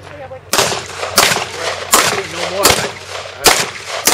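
Five loud, sharp gunshots fired at a shooting stage during a strong-hand-only drill, spaced roughly every 0.7 to 1.5 seconds, each with a broad crack and brief echo, close to the microphone.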